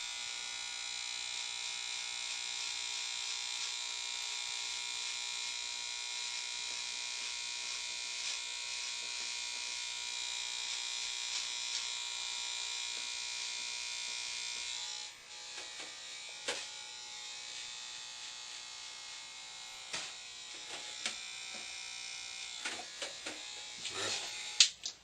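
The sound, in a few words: hair clippers cutting a taper haircut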